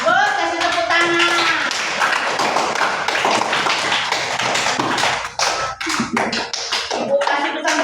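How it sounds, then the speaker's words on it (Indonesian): A classroom of students claps their hands together, with brisk, uneven clapping throughout and children's voices calling out over it. "Bagus, kasih tepuk tangan."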